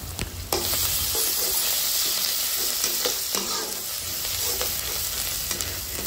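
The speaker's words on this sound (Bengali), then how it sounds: "নেড়ে চেড়ে এই সবগুলো উপকরণ ভালোভাবে কষিয়ে নেব" Chili powder, cumin and ginger-garlic paste stir-fry in a pan for a village-style pangas fish head curry with taro, giving a steady loud hiss with repeated spatula scrapes throughout.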